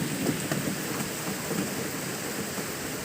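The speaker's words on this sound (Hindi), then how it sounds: "रात में बारिश, पर बहुत ज़्यादा बारिश गिरती है।" Heavy rain pours at night in a dense, steady hiss and patter, continuous and enveloping, with no voices.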